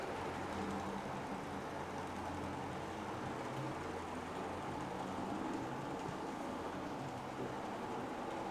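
A Bachmann model train hauling 10 coaches runs up an incline, giving a continuous, even rumble and rattle throughout, fairly quiet and with no talk.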